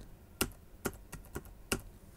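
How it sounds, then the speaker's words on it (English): Keys on a computer keyboard are pressed one at a time, producing about six sharp, close clicks spaced irregularly over a quiet background. "we can use the less than, greater than keys on the keyboard"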